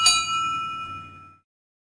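A single bright metallic bell ding from the locomotive Toby in a Thomas and Friends game rings out clearly and fades over about a second.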